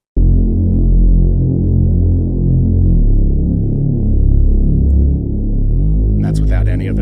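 Reese bass synth played in stereo with mid/side EQ, the mids pushed up and sides pulled down, a loud, thick, detuned low drone with slow throbbing phasing, sustained for several seconds before a brief bright burst at the end.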